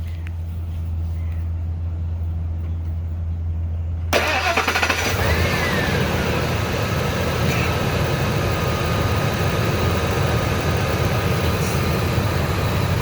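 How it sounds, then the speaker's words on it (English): A truck's engine cranked and started during a fuel pump test, a steady hum followed by the starter catching and the engine settling into a loud, even idle. "now what I'm going to do is start the truck up."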